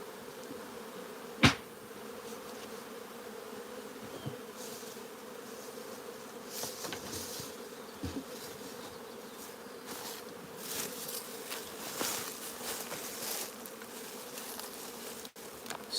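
Honey bees buzz steadily around an open nuc hive, a low, even drone with a few faint knocks and clicks mixed in.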